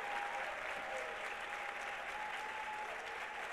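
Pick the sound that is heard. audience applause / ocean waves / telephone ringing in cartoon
audience applause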